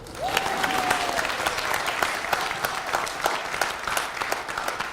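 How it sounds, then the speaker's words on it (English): An audience at a school board meeting applauds the newly introduced Teacher of the Year, steady sustained clapping filling the room, with a faint spoken voice briefly heard over it. "You can clap."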